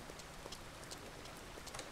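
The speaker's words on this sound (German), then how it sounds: "Es regnet, gut." Steady rainfall in the video game Lumberjack's Dynasty, a dense even patter of drops on surfaces with no voices over it.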